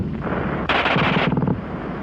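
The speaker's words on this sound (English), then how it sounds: "the German gun fires faster than anything you've run into before" German machine gun firing a fast, continuous burst, loud and close, with rapid shots running together over rumbling background noise.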